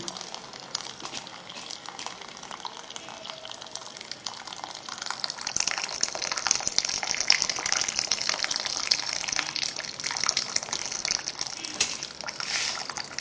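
Water from boiled noodles pours and splashes steadily as it is drained, growing louder and more gushing midway, close by.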